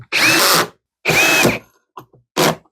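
A power screwdriver set to low torque drives screws into the plastic housing of a Rug Doctor Mighty Pro X3 carpet cleaner in three short whirring bursts, with a brief click between the second and third. The bursts are close and loud, with no voices.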